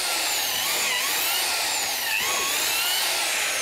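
A power drill boring into an insect hotel, a loud, continuous whining drone close by with small shifts in pitch as the bit works through the material.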